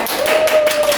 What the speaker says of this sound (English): all of you can clap